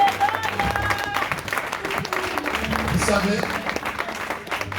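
A church congregation applauds and cheers during a service led by a pastor, right after the Bible reading. Clapping keeps going throughout, mixed with voices and music, and someone speaks over it.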